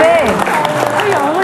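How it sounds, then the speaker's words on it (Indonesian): Applause for a team at a high school quiz competition, clapping from a crowd mixed with prominent talking and cheering voices over it. "Beri tepuk tangan untuk Regu B."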